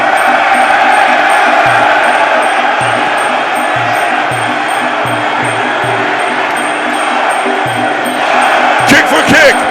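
Lumpinee Stadium crowd at a Muay Thai fight, a dense, continuous roar of cheering and shouting that swells steadily, with rhythmic drumming beneath and a commentator talking over it.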